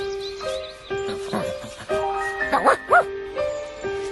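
A cartoon dog gives a series of short yipping barks and whimpers in quick bursts, set against tonal background music with steady sustained notes.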